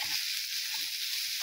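Jackfruit seeds frying in a pan until reddish, a steady close sizzle with soft crackles running throughout, no voices.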